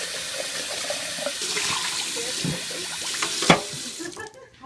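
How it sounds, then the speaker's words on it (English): Tap water runs into a kefir jar at a kitchen sink, a steady splashing rush with small clinks and gurgles as the jar is rinsed, then cut off at the end. "I'm going to go ahead and rinse it for the sake of time."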